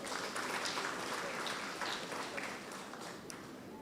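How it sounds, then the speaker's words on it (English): Applause from a seated audience at an art collection handover ceremony, a soft, steady patter of many hands heard from a distance, fairly faint and fading slightly toward the end. "Please give them a round of applause."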